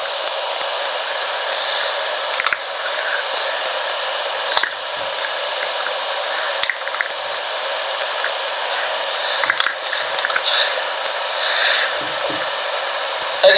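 A screwdriver turns the screws of a 3x3 puzzle cube, giving soft intermittent clicks and scrapes over a steady hiss, quiet and close, with occasional sharper ticks spread across the stretch.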